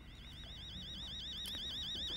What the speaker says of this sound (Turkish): Yangın alarmı sandığım alarm